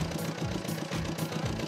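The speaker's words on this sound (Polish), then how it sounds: "Łukasz z Werbą wsiadł na ciągnik" A tractor engine idles close by in a steady, continuous rumble with faint knocking, with no voices.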